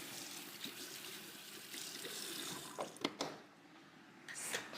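A kitchen tap runs steadily while hands are washed during cake baking, giving a loud continuous hiss of flowing water with a few splashes and clatters toward the end.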